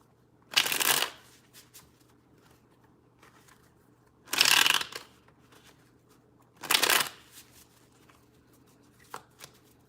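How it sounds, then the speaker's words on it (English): Tarot cards being shuffled in three quick riffling bursts, each about half a second long, with quiet gaps between them and a faint tap near the end. "Two more shuffles."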